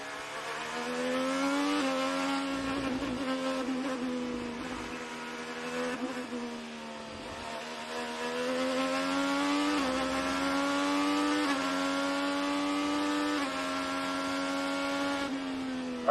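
Onboard an IndyCar race car driven by Josef Newgarden at the Gallagher Grand Prix road course, the engine screams steadily at high revs with pitch dips and climbs through braking and gear changes, loud and continuous.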